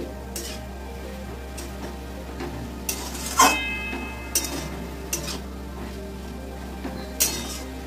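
Grated carrots fry in ghee for carrot halwa, stirred steadily in a pan: a soft, continuous sizzle broken by occasional sharp clinks and scrapes of a utensil against the metal.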